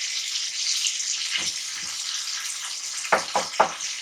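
A wooden spoon stirs tomato masala in a non-stick pan over a constant frying hiss, with a couple of soft scraping strokes and then three quicker, louder scrapes near the end.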